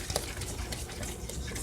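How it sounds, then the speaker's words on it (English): An egg being stirred into brown butter chocolate chip cookie dough in a bowl, a soft, quiet, continuous scraping and squelching with no talk. "Just gonna mix that in"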